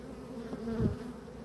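Honey bees buzz around a hive during queen caging, a low droning hum with one bee passing close and loud for a moment before the buzz settles back to a faint background drone.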